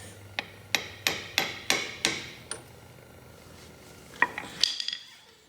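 Metal-on-metal hammer taps drive an axle seal into the axle tube of a neglected Kawasaki Bayou 220 ATV with a seal driver or socket, about seven sharp, evenly spaced knocks followed by a few lighter clinks.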